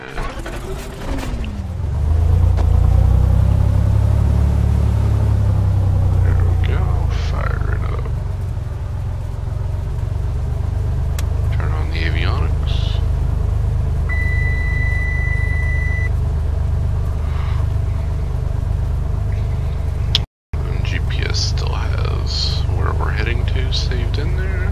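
A Cessna 182 engine in the Flight Sim X game cranks and roars to life at about 30% throttle, then settles into a steady drone while someone talks over it, with a brief cut near the end.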